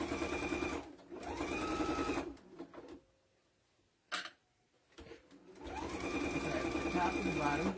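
A sewing machine with a walking foot stitches a quilt, loud whirring runs at the start and end separated by a quiet pause with a brief click, with voices talking over the stitching.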